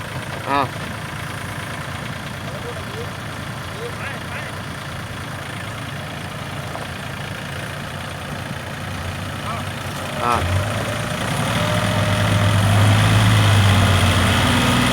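A heavy Yanmar tractor engine runs steadily in the background on wet ground, swelling louder and deeper toward the end as it pulls, with a few people talking over it.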